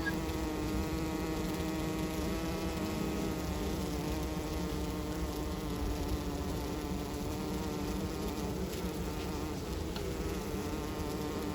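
A dense, steady drone of many honey bees buzzing close by at a city farm hive, soft and continuous with no pauses.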